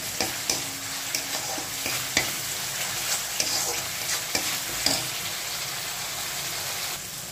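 Masala frying in a pan for a vegetarian Bengali dish, a soft steady sizzle marked by repeated spoon strokes scraping the pan, close and without any voices.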